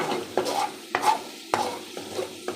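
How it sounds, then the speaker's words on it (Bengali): Grated coconut fries in a pan as it is stirred to draw out oil. Several distinct scraping strokes of the spoon fall over a soft, continuous sizzle, close and clear. "এখন আমি এগুলো আবার নেড়ে উল্টাই দেবো।"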